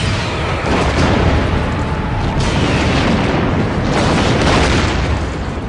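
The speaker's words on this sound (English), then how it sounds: "Target that explosion and fire." A loud, continuous roaring blast rumbles for several seconds with a heavy low-end boom, like a sustained explosion, played inside a 2013 Lexus LS600h.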